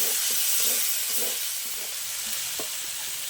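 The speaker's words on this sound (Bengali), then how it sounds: "ভালো করে মশলাগুলো আমি কষিয়ে নেব" Spices for a soybean curry sizzle and hiss as they roast in a pan, with a few soft scraping stirs over a steady broadband fry.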